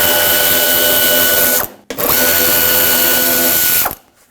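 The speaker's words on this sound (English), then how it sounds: "Remove the screws that hold it on." A power drill backs out the mud guard screws on a 1995-2004 Toyota Tacoma, two loud close whirring bursts of about two seconds each with a brief stop between, no talking.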